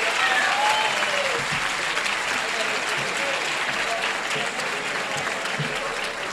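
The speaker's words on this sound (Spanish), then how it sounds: "por favor, y un aplauso" A graduation ceremony audience breaks into sustained, loud applause, a dense wash of clapping with a faint voice briefly audible near the start.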